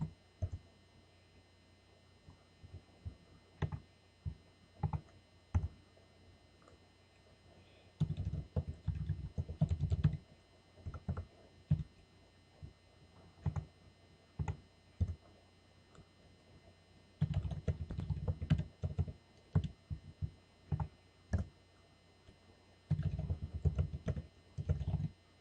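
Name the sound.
typing on a computer keyboard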